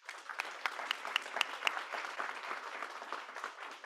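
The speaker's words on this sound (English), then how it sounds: "You can clap, yeah?" An audience at an awards ceremony claps steadily, with a few sharper individual claps standing out over a moderate, even patter.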